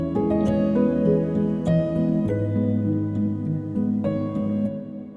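Piano patch built in a DAW to imitate a pianist's sound, a short passage of soft, warm sustained chords with gentle melody notes, close and unaccompanied.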